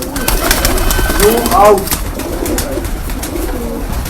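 Pigeons coo close by in short, soft, throaty calls, partly under a voice giving instructions, with a brief rise in loudness near the middle.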